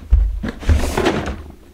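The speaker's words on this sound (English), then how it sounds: "Into the drawer for eternity." A boxed iPhone XR package is dropped into a drawer with a couple of close, heavy wooden thunks, followed by the drawer sliding and bumping shut.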